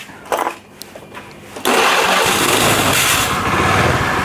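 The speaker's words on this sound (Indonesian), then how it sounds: "Sekarang varionya sudah hidup, sudah lebih stabil" A Honda Vario 110 LED injection scooter with a sudden-stalling fault sputters through a few weak cranking attempts, then catches and settles into a loud, steady idle close by.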